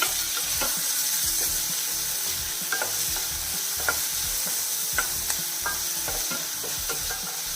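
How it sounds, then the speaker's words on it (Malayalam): Chopped medium onion sizzles and fries in a pan while a spoon stirs it, giving a steady loud hiss with scraping stir strokes and small clinks throughout, close up and with no talking. "ഈ ഇതിൽ ഒരു മീഡിയം സൈസ് സവോള കട്ട് ചെയ്തത് അതിട്ട് കൊടുക്കുന്നു"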